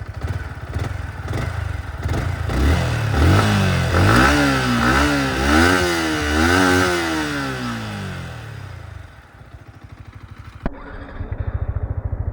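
A Yamaha MT-15 150cc motorcycle engine revs up loud and close, climbing and falling through several throttle blips before dropping back to a steady idle, with a sharp knock near the end.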